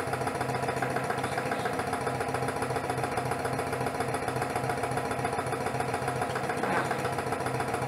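A Lanaform suction skin massager running at maximum speed, a dense, even mechanical buzz with rapid pulsing throb, steady and close for the whole stretch, with one brief spoken word.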